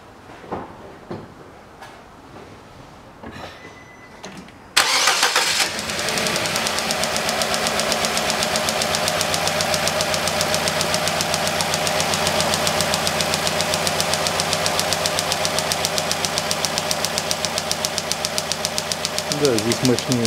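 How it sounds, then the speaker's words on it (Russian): A car engine cranks and starts about five seconds in after quiet, then settles into a loud, steady idle during ignition-coil spark testing with swapped coils; light handling noises come before the start. "Запускаю двигатель."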